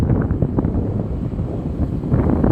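Strong monsoon wind buffets a microphone outdoors near an open town square, a loud, steady low rumble with gusty swells that continues throughout and no voices.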